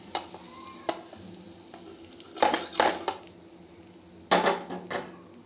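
Hot tempering with asafoetida poured into wood apple pickle, with metal utensils clinking against the vessel and brief bursts of sizzle between sharp taps, fairly close and otherwise quiet.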